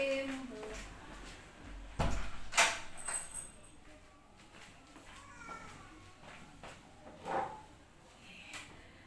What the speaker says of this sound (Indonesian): Tutup pintu dulu nggih Bu nggih.